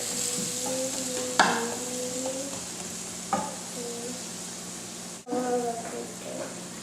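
Asparagus cooking in unsalted butter in a pot over medium-high heat gives a steady close sizzle, with a few sharp clinks and scrapes of stirring and a brief dropout near the end.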